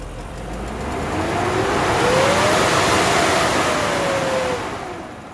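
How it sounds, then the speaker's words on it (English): A BMW V8 engine revs up with a faulty viscous fan clutch, producing a loud, steady turbine-like whoosh and roar that swells, holds for several seconds, then eases slightly, with no talking. "every time you rev the engine, you're going to hear loud noise like from a turbine or something"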